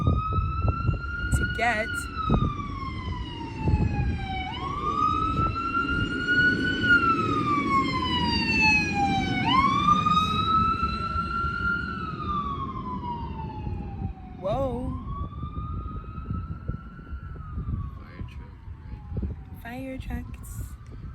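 Fire truck sirens wail loud and close, sweeping up and down in long repeated cycles for the whole stretch over steady traffic rumble, with a voice speaking briefly.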